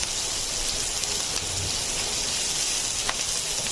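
Chopped onions fry in hot oil in a pan until browning, giving a steady, soft, rain-like crackling hiss with a few faint pops.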